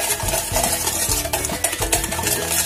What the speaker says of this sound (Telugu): ఇప్పుడు విస్కర్తో బాగా బీట్ చేసుకోవాలి